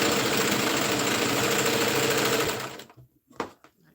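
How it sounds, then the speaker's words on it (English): A sewing machine stitching fabric pieces together runs in a steady, loud, close mechanical whir for most of the time, then stops abruptly, followed by a few faint clicks and handling knocks. "I keep sewing it all the way through until everything connects."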